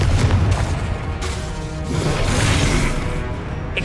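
A Confringo blasting spell explodes in the Hogwarts Legacy video game: dense, heavy booming blasts with crashing bursts, sustained and loud throughout, with no voices.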